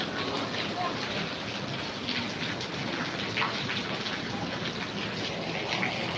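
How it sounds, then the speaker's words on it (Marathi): Steady heavy rainfall patters and hisses close by, a dense continuous wash of drops, with faint voices occasionally beneath it. "आमच्याकडे भरपूर पाऊस चालू आहे"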